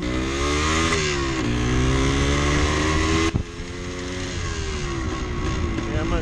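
A 1974 Yamaha DT360A two-stroke motorcycle accelerating on a road, its engine pitch climbing through the gears for about three seconds, then an abrupt drop as the throttle closes and it settles into a lower drone, with faint talk.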